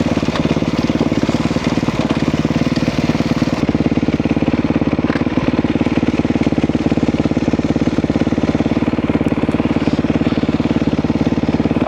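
A motorcycle engine runs at a steady, even idle with a fast regular pulse, loud and close, with no talk over it.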